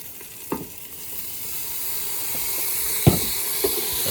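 Food frying and steaming on a Blackstone flat-top griddle at a campsite, a steady close sizzle with a few sharp pops and stirring scrapes breaking through.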